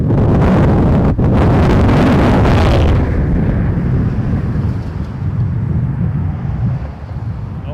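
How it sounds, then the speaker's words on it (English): Strong wind buffets the microphone at Toronto Pearson Airport, a loud, rumbling roar that is harshest in the first few seconds, then eases slightly into a continuous gusty blowing. "Oh my, it is windy"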